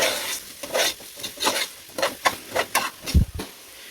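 Coriander and mint leaves are stirred into a beef bone dalcha in a pan, giving a rhythmic series of close scraping strokes over a soft sizzle and ending with a dull knock, with no one speaking.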